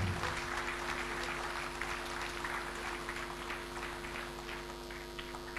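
A crowd at a graduation ceremony applauds steadily, the dense patter of clapping holding over a low hum before slowly tapering.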